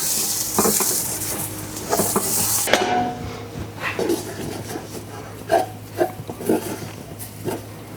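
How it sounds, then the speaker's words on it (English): Vegetables coated with chili powder are stirred in a big-batch chili pot, giving a hissing sizzle that stops abruptly, then irregular close scraping and clunking strokes of a spoon against the pot, with no talk. "we're coating those vegetables with that chili powder"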